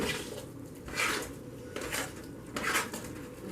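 Potato cake mixture is stirred in a bowl, with three soft scraping, clattering bursts of a utensil against the bowl at roughly one-second intervals over a quiet background.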